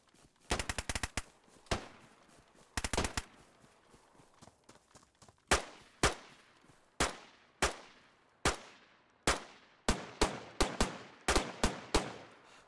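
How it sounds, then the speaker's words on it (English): Gunfire in the DayZ video game: quick bursts of rapid shots at first, then a steady run of sharp single shots at fairly regular intervals. It sounds close and clear, with no talk over it. "No, he's shooting."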